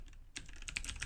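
Typing a web address on a computer keyboard: a short run of quick, soft key clicks in an uneven rhythm, close and faint against quiet room tone.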